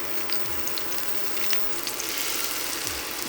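Tofu frying in ghee in a pan, a steady close hiss of sizzling oil with a few small pops and light crackles throughout.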